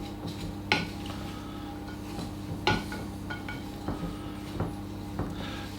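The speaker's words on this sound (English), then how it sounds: "To that you add your carrot. Mix that in, give that a good mix." Grated carrot is stirred into carrot cake batter in a bowl, with a handful of distinct clinks and scrapes of a utensil against the bowl at irregular intervals over a low steady hum; close and quiet, no speech.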